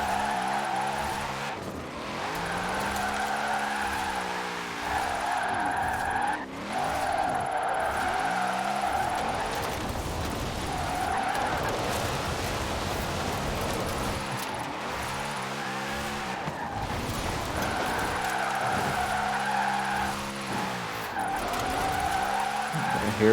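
A car in Forza Horizon 4 drifts and spins out, tires screeching in repeated long squeals over a revving engine whose pitch rises and dips, loud and continuous with no talk.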